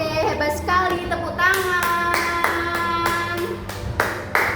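Schoolroom class clapping hands during a microteaching lesson, a steady run of sharp claps at an even rhythm, fairly close, with a voice and sustained tones under the start.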